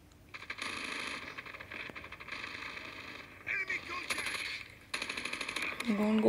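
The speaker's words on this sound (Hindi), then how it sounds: "इस बड़े टाइम बाद ये वाली गन चला रहे हैं" Gunfire in a Call of Duty: Mobile deathmatch: bursts of rapid automatic shots come in short clusters with gaps between them, moderately loud alongside other game effects.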